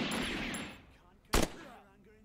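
Gunfire in the video game Encased: a burst of shots early on, then one sharp loud shot about midway, with faint game ambience and traces of voice.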